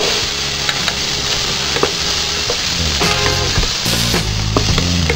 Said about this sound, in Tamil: எண்ணெய் காஞ்சதும் கடுகு கொஞ்சம் போட்டு பெருங்காயத்தூள் கொஞ்சம் சேர்த்துருக்குறேன்.